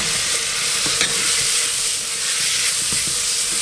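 Sausages fry over very high heat in a pressure cooker pot, giving a loud, continuous sizzle and hiss with faint clinks of stirring and no talk.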